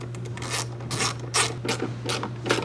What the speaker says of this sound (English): Tighten up your bolts again.